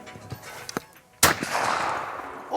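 A shotgun fires a single loud blast at a clay pigeon shooting range, a sharp crack with a long echoing decay, preceded by a few faint knocks and clicks.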